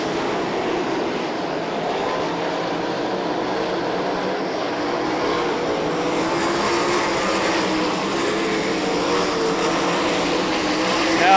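Sprint cars racing on the 34 Raceway dirt track, a sustained mechanical roar that builds and grows louder toward the end, heard under an announcer's commentary.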